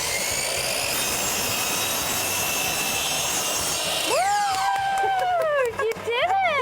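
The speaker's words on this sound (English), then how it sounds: "So we measured our cuts and hit the miter saw." A miter saw slicing through white wood baseboard trim during a bathroom renovation: a loud whining motor hum, then the blade biting in with a rising screech and rough cutting noise, briefly dipping before finishing, close and dominant.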